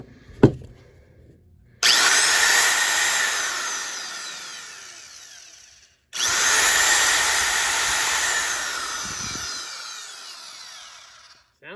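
A Milwaukee electric die grinder, an auction find, is plugged in and run up to speed twice, each time a loud, steady high whine lasting about four seconds before spinning down, with a click at the start.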